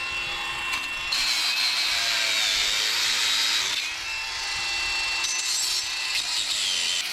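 A power saw cuts through wood for a greenhouse build with a loud, sustained whine that dips and rises as the blade bites, continuous for several seconds.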